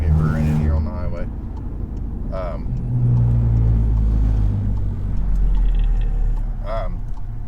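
A car fitted with an Integrated Engineering downpipe and new exhaust drones steadily while cruising on a highway, a deep close rumble that swells slightly mid-way, with a voice talking over it.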